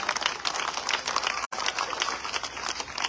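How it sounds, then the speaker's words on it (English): A crowd at an outdoor political party public meeting in Dundee, Mahaicony, Guyana applauds steadily, a dense patter of many hands clapping at an even level with one brief break. "Comrades, all, let's give Comrade Victon another round of applause."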